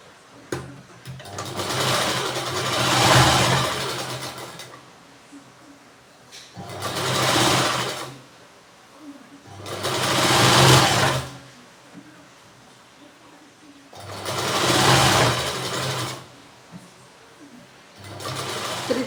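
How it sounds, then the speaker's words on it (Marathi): A sewing machine runs a double line of stitching to join blouse sleeves, whirring loudly in four separate runs of a few seconds each, with quiet gaps between them. "तर याला सुद्धा आपण डबल टिप टाकून घेऊयात."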